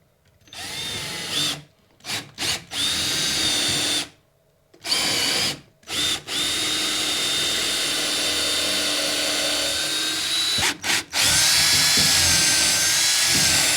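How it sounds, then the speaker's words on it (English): A power drill with a 5/32 bit whines steadily in several bursts while drilling pilot holes for a TV wall mount bracket, stopping and starting, then running longer near the end; close and loud with no talking. "use a 5/32 bit and drill right here"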